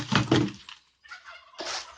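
A few short, raspy clucking bursts from fowl, close by, separated by brief silences.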